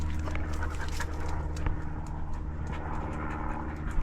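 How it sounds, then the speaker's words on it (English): Excited working dogs in a Melbourne garden in midsummer, panting, snuffling and small whimpers up close, with footsteps and clattering around them in a continuous busy jumble. "These are my puppies, and they go nuts when I talk at the camera, so typical working dogs."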